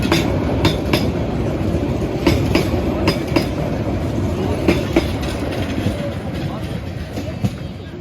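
A passing train rolls by close at hand, its continuous heavy rumble punctuated by rhythmic clickety-clack of wheels over rail joints for the whole stretch.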